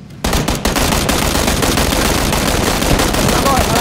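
Dense automatic gunfire in the battle-royale video game PUBG, loud and continuous bursts starting abruptly and rattling on without pause, with game ambience behind and no talk over it.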